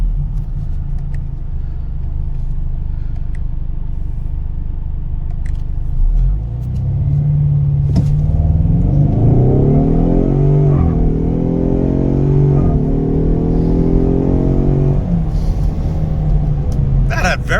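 A rental car accelerating hard on 87-octane fuel in 100-degree heat, the engine rumbling at idle, then surging into a loud rising rev that climbs through shifts and eases off near the end, heard from inside with voices over it.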